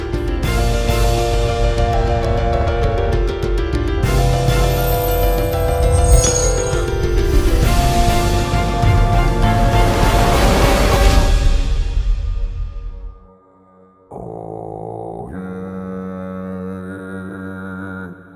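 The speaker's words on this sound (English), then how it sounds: "And then it sounds like this giant, tremendous burp." Slowed-down giant burp of a pond wamper creature in the video game Windbound, rendered as a loud, long, deep rumbling belch with a low gurgling texture, followed by a short pause and a quieter tonal tail, with no speech over it.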